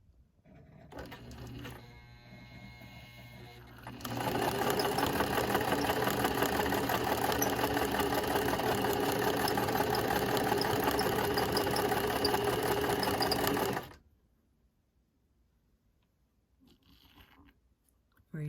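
A sewing machine stitches a zigzag pattern on fabric, starting with a few soft clicks and then running in a fast, even, mechanical whir for about ten seconds before stopping abruptly into near silence.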